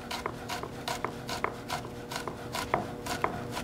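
A knife slices a garlic clove thinly on a cutting board, producing a quick, regular series of crisp close taps, about three per second, with no talking.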